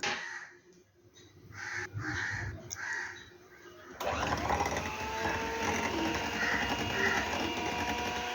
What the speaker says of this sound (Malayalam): ഇനി ഇത് നന്നായിട്ടൊന്ന് ബീറ്റ് ചെയ്യുക